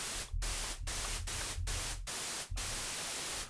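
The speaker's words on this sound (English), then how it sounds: "So here's white noise, and it's going to be the same sound." Broadband white noise from a synthesizer signal generator hisses loudly and steadily, cut by several brief dropouts at irregular intervals, with no talking.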